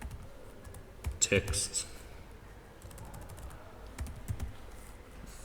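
Computer keyboard keys clatter in a brief burst of typing as code is entered into a script file for a homepage, with someone talking over and around the keystrokes.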